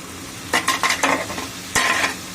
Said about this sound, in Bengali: দিয়ে এটা নাড়তে হবে ভালো করে